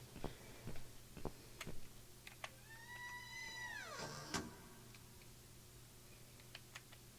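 A single drawn-out cat meow from a video game, The Cat Lady, rises and falls, quiet against scattered ticking clicks and a faint steady hum.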